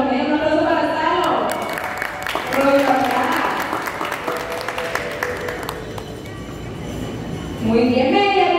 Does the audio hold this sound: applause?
yes